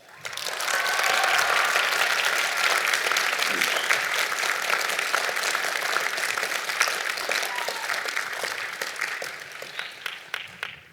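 A large commencement crowd bursts into a raucous, sustained round of applause that swells quickly and holds steady for about ten seconds, with a few scattered cheers, before thinning toward the end.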